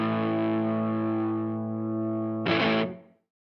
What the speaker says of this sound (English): That's some reverb.